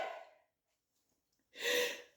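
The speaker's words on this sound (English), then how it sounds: "I'm going to sneeze." A single sharp sneeze bursts out near the end after a brief breathy intake, close and fairly loud, with no talking around it.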